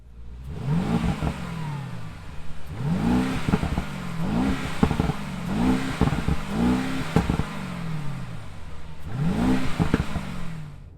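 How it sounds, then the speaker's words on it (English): A 577-hp 2021 Mercedes-AMG G63 revs hard in Sport Plus mode with its exhaust baffles open, about six loud, rising blips with a short pause after the first two, each one climbing and falling back. No one speaks. "let's go to Sport Plus, which opens up the baffles and the exhaust. We're gonna rev it out."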